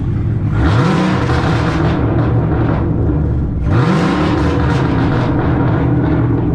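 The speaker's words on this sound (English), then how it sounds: "let me go ahead and rev it for y'all one time" A Camaro ZL1 engine is revved twice, each time a loud, close, rising roar that climbs sharply, holds and then drops back to a throaty idle.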